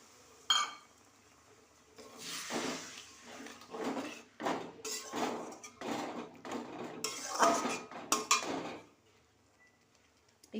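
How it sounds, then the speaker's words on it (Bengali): A large old kadai is handled on a kitchen surface, with repeated metallic clanks, scrapes and rattles in irregular bursts, fairly close and moderately quiet, with no talk. "কড়াইটা এবার পাল্টাতে হবে ঢকঢক করে নড়ে"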